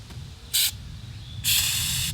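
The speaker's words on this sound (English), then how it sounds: "Got to clear the nozzle" FlexSeal aerosol spray can being cleared at the nozzle outdoors, two short hissing bursts, the second longer, close and loud over light wind noise.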